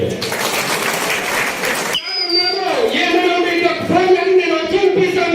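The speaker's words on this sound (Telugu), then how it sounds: "ఒక్కసారి గట్టిగా క్లాప్స్ కొట్టండి" A crowd at a state-level convention meeting in Kurnool applauds loudly for about two seconds, then the applause stops and someone speaks over a microphone.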